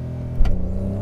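A car launches with launch control in Sport Plus mode as the brake is released. The loud, close engine holds a steady drone, then a short surge of revs bursts through midway, with no voices.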